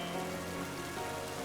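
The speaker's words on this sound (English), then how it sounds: "I like the rain. It's just a beautiful thing." Steady rain patters on surfaces in Pokémon Scarlet, a dense, even hiss of droplets alone at moderate volume for the whole moment.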